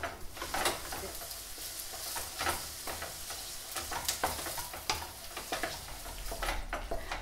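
Tofu with a splash of soya milk sizzles and bubbles in a pan, a steady close crackle broken by occasional stirring scrapes.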